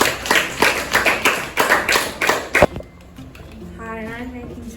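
Sixth-grade classroom applause for a student after a baking demo: a short burst of hand clapping for about two and a half seconds, ending abruptly, followed by a quiet room and a voice.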